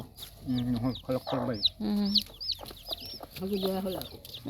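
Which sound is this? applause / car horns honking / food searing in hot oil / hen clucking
hen clucking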